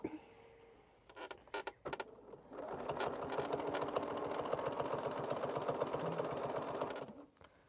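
A sewing machine stitches through two layers of fabric for a quilted Poppins bag, running in a steady, fast mechanical whir for several seconds after a few short starting clicks, then stopping.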